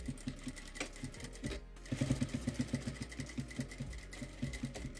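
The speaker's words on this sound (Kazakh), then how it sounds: "Осы жерді тігіп өтеміз енді." A sewing machine stitches fabric in a garment workshop, its close, steady rhythmic whirring broken by a brief pause before resuming at an even pace.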